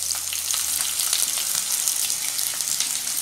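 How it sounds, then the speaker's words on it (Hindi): Chopped onions fry in two tablespoons of hot oil in a pan, giving a steady, close, bright sizzle with crackling pops throughout and no voices. "तेल गर्म हो चुका है हमारा। अब मैं इसमें प्याज डाल दूँगी जो हमने काट के रखी थी।"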